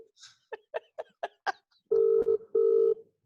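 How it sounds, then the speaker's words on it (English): Telephone ringback through a speaker: several short tones, then a steady sustained ring pattern of long beeps, heard clearly and alone during a call being placed. "It's actually ringing."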